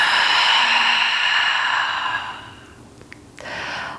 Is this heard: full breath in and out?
yes